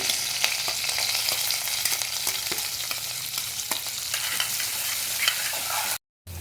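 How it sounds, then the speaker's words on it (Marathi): Garlic, cumin seeds and curry leaves fry in hot oil for a zunka, giving a steady, close sizzle with crackling pops and a few stirring scrapes, briefly cut off near the end. "लसूण चांगला परतून झालाय"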